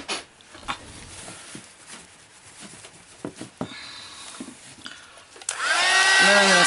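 Quiet rustling and light tapping give way, near the end, to a loud, steady hair dryer blowing close up as it dries a mixed media botanical canvas, running on to the finish.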